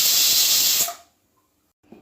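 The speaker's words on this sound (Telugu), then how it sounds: "ఒక 5 విజిల్స్ రానిద్దాంలేండి." A pressure cooker cooking dal with tomato, onion and coriander lets out a loud, sharp hiss of steam that cuts off abruptly after about a second, then near silence.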